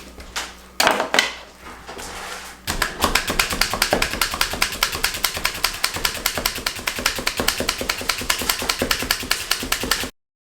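Dense rapid pounding of a meat tenderizer mallet on meat before it is cut into medallions for flouring and frying, a few heavier thumps first, then a steady fast run of close, sharp taps, no talking.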